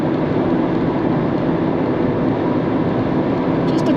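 A Union Pacific double-stack container freight train passes close by as a loud, continuous rumble and roar that holds steady throughout.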